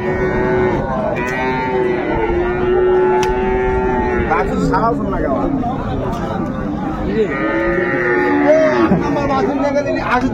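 Sahiwal cows and calves at the Raniganj cattle market low with long, loud, drawn-out moos, one after another, over constant crowd chatter and a nearby person talking.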